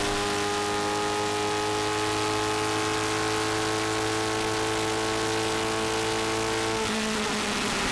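A race car at Summit Point, West Virginia, during an SVRA vintage race, engine droning at a steady high pitch along the main straight, loud and close, with a shift near the end.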